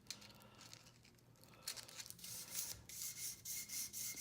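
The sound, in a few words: sanding oxidation off a metal pendant with sandpaper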